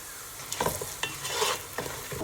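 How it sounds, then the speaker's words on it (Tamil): Lentils and onion frying in a pan while a spoon stirs them, soft steady sizzle with intermittent scraping strokes, close and quiet. "இந்த பருப்பு எல்லாம் பொரிஞ்சு இந்த வெங்காயம் ஒரு லைட் ப்ரௌனுக்கு வரவழைக்கிட்டு"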